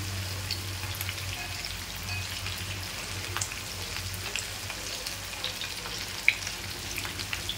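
Fish fries in hot oil, giving a continuous fine crackling sizzle at moderate level, scattered with small pops and one sharper spatter near the end.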